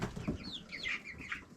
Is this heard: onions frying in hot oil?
no